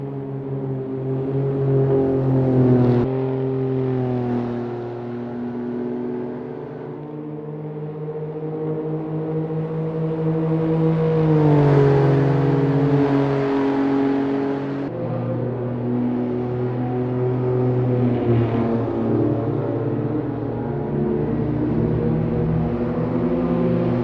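A Citroen C1 race car lapping Oulton Park in the Assetto Corsa racing game, its engine droning steadily with rising and falling revs through shifts and corners, loud and continuous with no talk.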